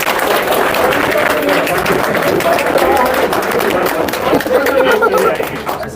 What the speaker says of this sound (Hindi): बजा दो भाई ताली।